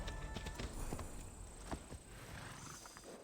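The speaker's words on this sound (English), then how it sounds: "Time to mount our horse." Steady horse hoofbeats clip-clop in a quick rhythm in the video game Assassin's Creed Odyssey, over a constant low background hum, with no voices.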